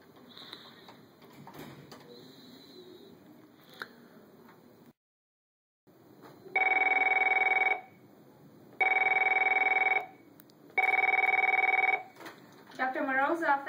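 A telephone rings three times in long, even electronic bursts after a quiet stretch of faint voices and a brief silence, fairly close and clear, with a warbling tone starting at the end.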